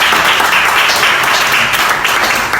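Audience applause: a dense, continuous wash of many hands clapping at full volume throughout, with no voices standing out.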